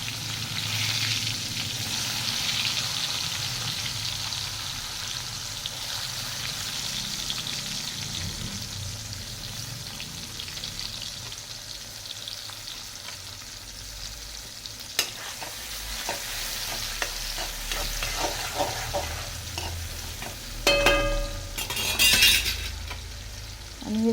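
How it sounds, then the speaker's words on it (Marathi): Onion fries in oil in a pan with a steady, close sizzle as it is stirred, and a few metallic clinks and scrapes come near the end. "तर पहिल्यांदा कांदा घालणार आहोत"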